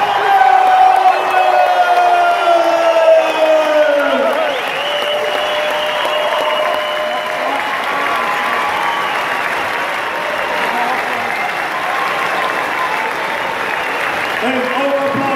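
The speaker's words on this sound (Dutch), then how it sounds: "En alle applaus voor die dames van de politie uit Zeeland" Audience at a women's boxing match applauding after the judges' scores, sustained loud clapping and cheering from the crowd over an announcer's amplified voice.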